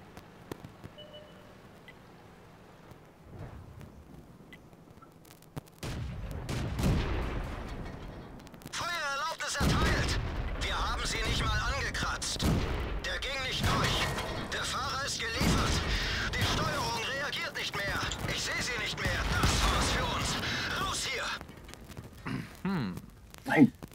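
Tank cannon fire and explosions in World of Tanks, several heavy booms and impacts in bursts, with players talking over much of the action.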